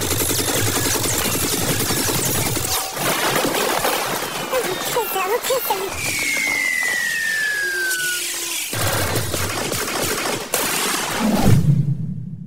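Movie shootout between bodyguards and police, with dense, loud bursts of gunfire, a ricochet whine and clattering impacts, broken by short pauses and ending in a final low thud.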